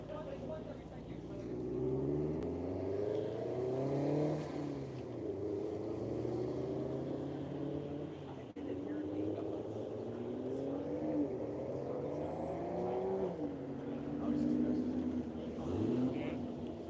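Race cars head out onto the Hedge Hollow track at One Lap of America, a Michelin Cadillac among them, engines revving and climbing through repeated rising sweeps, fairly near and steady, with a faint voice underneath.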